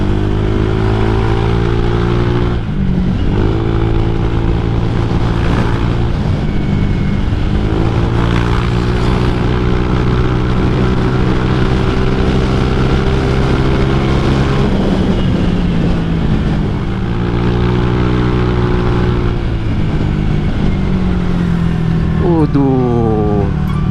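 A Honda Vario 150 scooter engine drones steadily throughout as the scooter is ridden, with loud, continuous engine tone and periodic shifts in pitch as it accelerates, speech mixed in over the engine.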